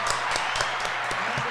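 A radio applause jingle, a short burst of dense clapping and crowd cheer that stays at an even level throughout.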